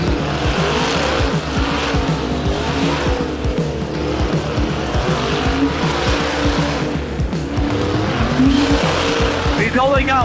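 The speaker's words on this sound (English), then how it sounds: "He's only got one rear tire with air in it, and it has caused him to go into a cyclone." A race car on popped rear tires spins out at a New England oval race, with loud, continuous engine roar and tire noise filling the whole stretch, close and dense.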